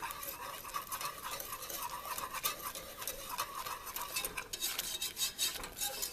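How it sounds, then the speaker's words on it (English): A utensil stirs peanut butter into simple syrup in a pot, giving faint, continuous scraping and clinking with no talk. "you want to stir in that peanut butter and let it melt"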